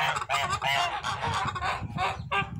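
A flock of young geese honks loudly and repeatedly at close range, overlapping nasal calls in irregular bursts with brief gaps between them.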